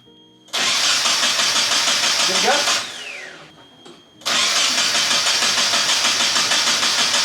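A fire-damaged Nissan 240SX engine cranks loudly, drops off briefly with a falling whine, then resumes its rhythmic churning without firing up.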